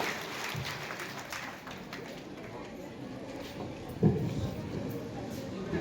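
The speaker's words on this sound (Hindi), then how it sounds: "जोरदार तालियां डॉक्टर कुमार मनोज जी।" Audience clapping for motivational speaker and poet Dr. Kumar Manoj at an outdoor courtyard gathering, a steady mid-level patter running under a speaking voice, with a brief louder burst midway.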